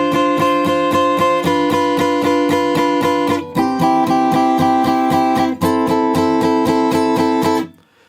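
A guitar in standard tuning plays the intro of a song: steady, evenly strummed chords with a few chord changes, loud and close, then a clean stop at the end.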